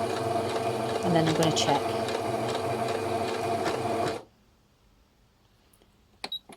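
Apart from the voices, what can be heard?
sewing machine stitching a blind hem on curtains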